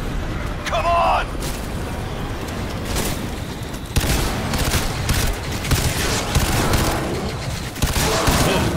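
Dense bursts of automatic gunfire and heavy weapon blasts from a chaotic firefight in the video game Crysis 3, loud and close, with a voice speaking over parts of the shooting.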